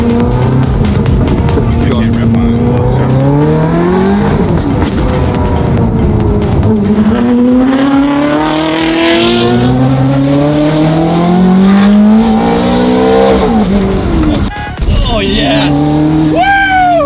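A straight-piped barn-find Ferrari with a full exhaust revs hard while driving, its loud, raspy engine note rising and falling continuously with a sharp burst near the end, and voices talk over it.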